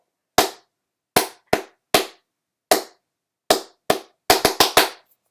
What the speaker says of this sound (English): Watch, without me saying, I'll just clap.